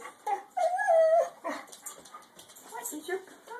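A dog whimpering and yelping in a home during Thanksgiving, apparently upset over a bone, with a drawn-out whine near the start and softer whimpers after, close and moderately loud, mixed with household sounds.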